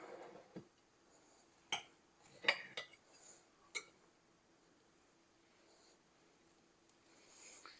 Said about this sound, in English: We're going to cut up a piece of this cornbread.